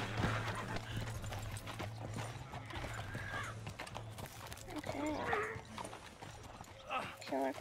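Horse hooves clip-clop in Red Dead Redemption 2, a steady rhythm of hoofbeats beneath game dialogue and voices, with a brief whinny-like call and other game sounds mixed in.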